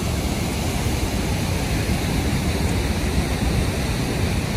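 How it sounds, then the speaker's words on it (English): Tännforsen waterfall in Duved, Sweden: a heavy, continuous roar of falling water, loud and close, holding steady throughout with some wind buffeting on the microphone. "Waterfall i Sverige."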